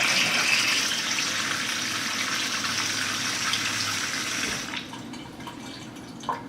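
Kangen water at pH 9.5 runs from a kitchen tap in a steady, hissing stream that stops abruptly near the end, leaving a quieter room with a faint knock.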